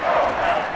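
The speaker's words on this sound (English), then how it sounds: "The crowd getting into it as we come up on a big 3rd down." Crowd noise from a Madden NFL 22 game between the Packers and 49ers, a steady broad roar of stadium fans building ahead of a big third down, continuous and fairly loud throughout.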